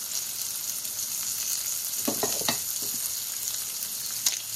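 Delicata squash sizzling in a hot pan, a steady close frying hiss with a few brief crackles and pops, no voices.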